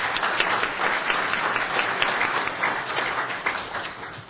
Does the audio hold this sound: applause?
yes